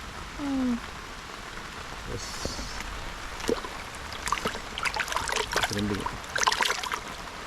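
Soft patter of rain falling around a fishing spot outdoors in Kerala, with scattered drips and splashes, a few faint knocks and short voice-like sounds under the steady wash.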